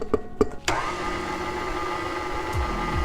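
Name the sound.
electric mixer mixing butter, cream cheese and powdered sugar frosting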